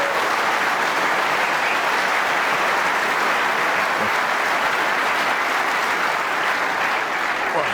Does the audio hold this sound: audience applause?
yes